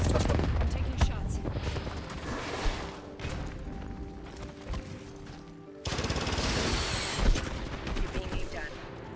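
Rapid automatic gunfire rattles loudly in the Apex Legends battle royale game, bursts of shots stopping and restarting with a louder stretch near the end, mixed with game effects and occasional voice.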